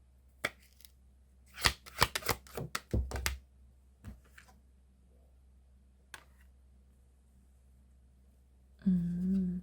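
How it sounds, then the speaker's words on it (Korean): Tarot cards are shuffled and drawn in a quiet room, with a cluster of quick slaps and riffles early on, then sparse single taps and a brief rustle at the end. "좋은 카드 한 장만 뽑아보고 마무리할게요"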